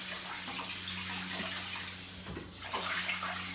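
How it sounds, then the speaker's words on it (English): Par-boiled Persian rice being rinsed, with water running steadily from a tap into a bowl and swishing around the grains at close range, alone with no talk. "Rinse it off like that. Dump the yucky water out."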